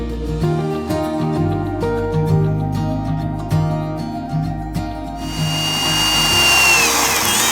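A power drill whines steadily while boring pilot holes for an orangery window installation, its motor pitch wavering under load before the sound turns to a harsher, noisier grind near the end, loud and close.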